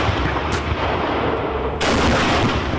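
A Challenger II tank's guns fire at a firing range, producing heavy booming blasts with rolling roar, two sharp reports standing out amid continuous loud rumble.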